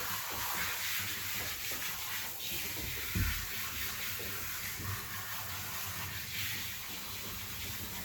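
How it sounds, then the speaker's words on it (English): Water sprays steadily while rinsing shampoo off a Shih Tzu–Yorkie cross during a full groom, a constant soft hiss and splash with occasional low thumps, close by and fairly quiet. "There's the first shampoo. We're going to rinse that one off."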